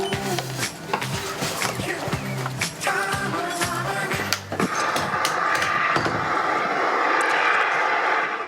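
Air Austral Boeing 777 airliner: a loud, continuous jet roar with broad rushing noise that swells and holds steady toward the end, close and dominant, with no voices.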